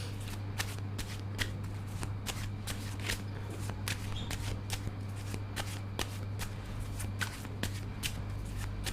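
A deck of tarot cards is shuffled by hand in a quiet room: a rapid, continuous patter of soft card flicks and slaps, close by, over a low steady hum, with no talking.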